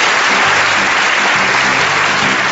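A studio audience breaks into loud, sustained applause, dense clapping filling the room evenly from start to finish with no voices rising above it.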